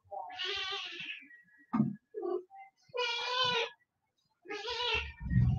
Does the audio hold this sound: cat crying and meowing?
yes